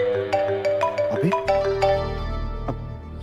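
A phone rings in a Hindi TV drama scene, a bright electronic ringtone melody playing repeatedly, fairly loud and close, with no speech.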